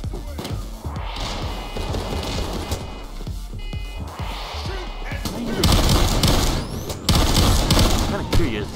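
MG42 machine gun in the video game PayDay 2, bursts of rapid fire and loud crashing blasts, growing heavier toward the end, with a voice talking over part of it.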